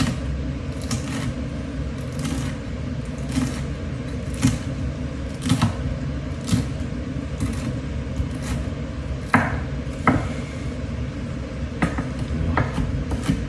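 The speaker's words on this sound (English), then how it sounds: "Chopping up these peppers." A knife chops peppers on a cutting board in uneven bursts of sharp taps, with light kitchen clatter and no voices.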